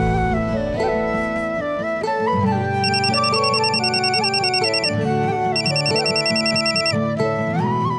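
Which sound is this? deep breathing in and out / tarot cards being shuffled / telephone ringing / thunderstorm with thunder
telephone ringing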